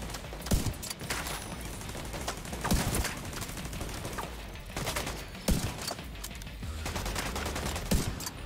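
Gunfire in the online shooter Tom Clancy's The Division 2: sharp, loud shots crack out in scattered bursts over a steady, dense wash of battle noise.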